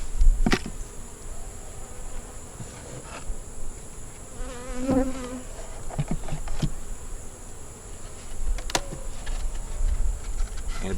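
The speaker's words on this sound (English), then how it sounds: "a bunch of bees was in the box that we changed it from" Honey bees buzzing around a beehive box in July, a continuous close drone with individual bees flying past the microphone, no voices.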